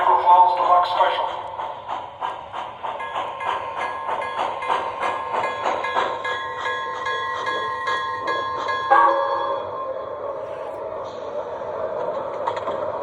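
An MTH Michigan Central Hudson model steam locomotive runs steadily. Bright ringing, bell-like tones sound over a constant mechanical hum at an even level, with a brief accent near nine seconds.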